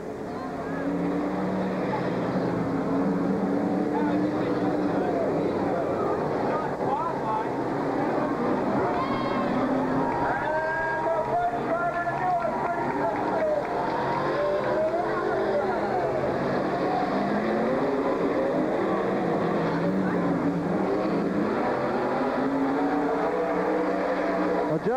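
NASCAR stock cars race at Silver Spring Speedway, a continuous roar of several engines rising and fading as they pass, with crowd noise and a faint voice under it.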